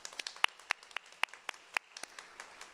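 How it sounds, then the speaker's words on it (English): A sparse scatter of individual claps from a small audience at a university teacher pinning ceremony, faint and distant, about a dozen and a half sharp hand claps spread unevenly over a few seconds with no talking. "Give yourselves one more round of applause."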